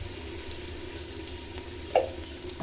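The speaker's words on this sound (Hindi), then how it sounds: "अब इनको अच्छी तरीके से हम फ्राई करेंगे" Chicken and gravy sizzle and fry in a pot for an aloo matar chicken dish, a steady close crackle with a brief stirring clink partway through.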